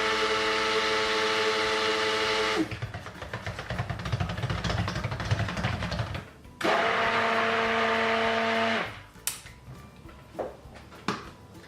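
A stick blender whirs loudly through goat's milk soap batter in bursts, steady motor tone from start, cutting out briefly, then running again before stopping with a few clunks and knocks.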